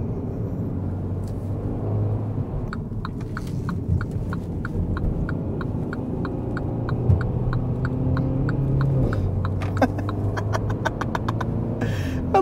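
A 2020 MINI JCW Clubman drives at moderate speed, its engine giving a steady low throbbing hum with road rumble, and a run of faint rhythmic ticking heard alongside; no one talks.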